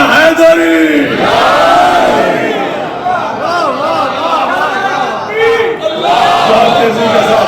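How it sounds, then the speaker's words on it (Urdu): Large gathered crowd at a religious celebration of Imam Hassan's birth loudly chanting the slogan Nara-e-Haidri in unison, voices swelling in repeated waves of shouting that fill the space close and loud throughout. "جس محبت سے نعرہ لگائے اسی محبت سے نعرے کا جواب دونوں ہاتھ بلند کر کے نعرہ حیدری"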